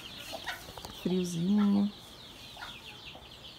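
Chickens clucking outdoors on a cool early morning, a single short cluck standing out close by over quiet ambient noise, with a person speaking softly around it.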